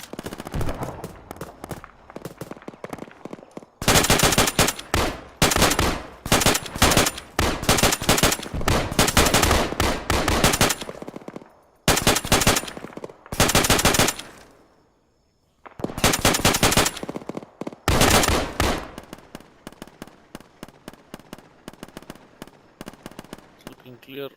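A video-game firefight erupts in long, loud bursts of automatic machine-gun fire and rapid shots, with a brief lull near the middle, while voices talk over team chat.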